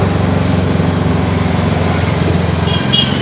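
Steady, loud low drone of an auto rickshaw engine while riding through the streets of Puri, with constant engine rumble and road noise throughout.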